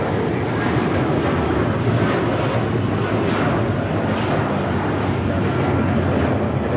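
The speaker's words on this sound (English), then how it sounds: "This is United Airlines 1855 taking off to Newark on the 757-200" United Airlines Boeing 757-200 jet taking off from Los Angeles International Airport, a powerful, steady engine roar close by, holding constant throughout without speech.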